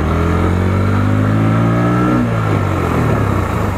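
A Pulsar NS 125 motorcycle launching in first gear, its engine note climbing steadily and loudly as revs rise close by, then breaking into a rougher, grainier roar, no talk.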